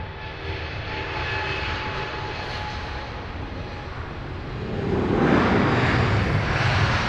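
A Finnair airplane's jet engines roar at Heathrow Airport, a broad, steady rumbling roar that grows louder partway through, with no talk over it.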